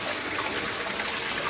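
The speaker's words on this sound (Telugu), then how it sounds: "ఏంటికి ఈ నీళ్ళు పడుతుంది" Water pouring down steadily at a construction site, a continuous close splashing gush with an even level and no voices.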